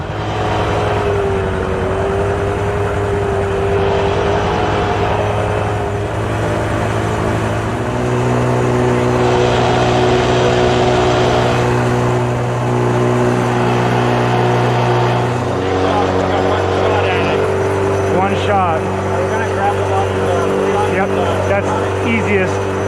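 A sailboat's diesel motor chugs steadily at close range with a droning low hum that steps down in pitch twice as the throttle changes, while wind and water noise sit over it and people talk nearby.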